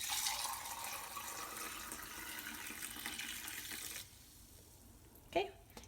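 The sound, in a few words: pouring bear root tea through a strainer into a mug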